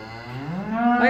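A single cow in a steer barn lets out one loud, close moo that rises in pitch and grows louder toward the end.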